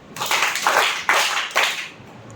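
Children clap their hands in four distinct claps at an even beat, close and clear, with no voices.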